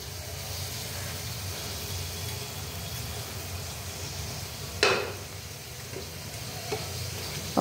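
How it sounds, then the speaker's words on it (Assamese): Homemade gulab jamun made with red potatoes fry in oil in an aluminium wok, giving a steady, even sizzle with a few sharp stirring scrapes and knocks. "সেইটো কাৰণে মই ঘনে ঘনে লৰাই আছোঁ।"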